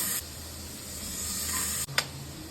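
Onions fry in a pan while being browned for a fish and chicken fry meal, a steady close sizzle and hiss throughout, broken by a brief stir near the end.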